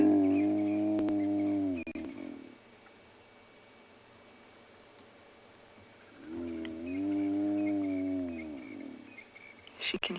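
A hyena gives two long, low, rising-and-falling whooping calls, each a few seconds apart, over a steady background hum at sunset on safari in Tswalu, with a quiet gap between them.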